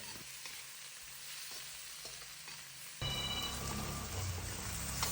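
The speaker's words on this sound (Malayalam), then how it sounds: "അതിലോട്ട് ചതച്ച് വെച്ച കൊച്ചുള്ളി ഇടുക എന്നിട്ട് അതിനെയെല്ലാം കൂട്ടിയിട്ട് ഒന്ന് ഇളക്കിയെടുക്കുക" Crushed shallots being stirred into hot oil, a steady frying hiss that jumps louder partway through as they hit the pan, with scraping stir strokes over the sizzle.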